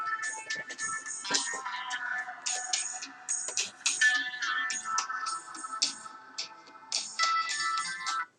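A phone ringtone plays as a repeating electronic melody for several seconds, loud and close, sounding steadily during a math lecture session with no talk over it.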